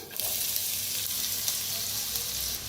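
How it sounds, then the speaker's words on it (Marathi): Cumin and mustard seeds frying in hot oil for stuffed bhongi chillies, a continuous close sizzle with a few sharper pops and faint stirring, no voices. "तेल चांगलं गरम झालंय त्याच्यात टाकूया अर्धा चमचा जिरं अर्धा चमचा मोहरी"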